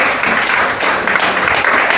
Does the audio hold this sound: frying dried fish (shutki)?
no